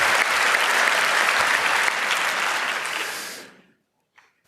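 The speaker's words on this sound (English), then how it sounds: "which I think really deserves my applause and yours probably as well" Audience at a physics talk on analyzing LHC data breaks into loud, dense applause that holds steady for several seconds, then tapers off and stops, leaving near silence with a couple of faint knocks.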